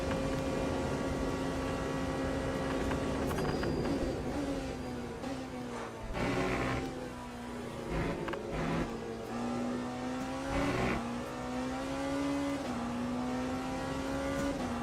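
Race car engine in the Le Mans Ultimate sim racing game, a steady loud drone rising and falling through repeated upshifts and downshifts, with occasional tire noise, no talking.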